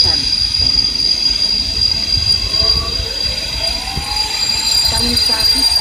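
A Slovak passenger train rolls into track 8 at Kysak station, wheels squealing and rumbling loudly and steadily close by, with a faint station announcement voice underneath.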